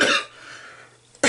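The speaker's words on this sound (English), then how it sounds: "this damn cough" A woman indoors sorting colouring books coughs, with a harsh, loud burst at the start and another at the end, separated by a quiet pause.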